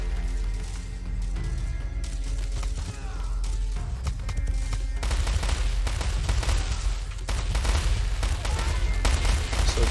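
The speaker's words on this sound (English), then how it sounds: "I've got my elephant mortars and elephant machine guns pushing forward to try and deal with the forward base here" Elephant-mounted mortars and machine guns firing in the real-time strategy game War Selection, a dense, continuous crackle of rapid gunfire layered with heavier bursts and battle noise.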